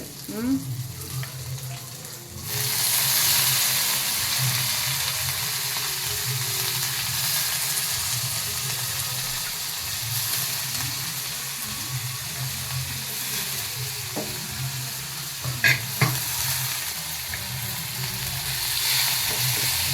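Dried salted fish chunks, a Tamil-style dry fish preparation, sizzle and crackle steadily in a hot pan, jumping in loudness as the pieces drop in and then holding a continuous close frying hiss with occasional stirring clinks.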